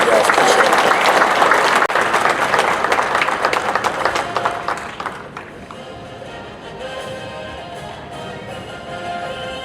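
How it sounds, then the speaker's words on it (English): Loud, dense applause from an audience at a sports Hall of Fame induction ceremony, holding strong for several seconds before tapering into quieter room noise and faint scattered sounds. "please give him a big round of applause"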